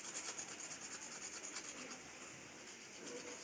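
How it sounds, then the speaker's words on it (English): A coconut shell being rubbed clean in a continuous soft, rasping scrub, close and quiet, with no voices. "So I'm rubbing this."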